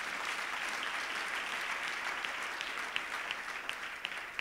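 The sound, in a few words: congregation clapping hands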